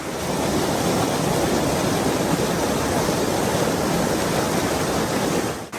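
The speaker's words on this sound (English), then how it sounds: "The creek is definitely very, very, very full." A swollen, very full creek pours over a small waterfall, producing a loud, steady broadband rush of water that stays constant and close throughout with no voices.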